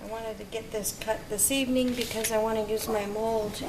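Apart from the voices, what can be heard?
None of the usual background noises is heard.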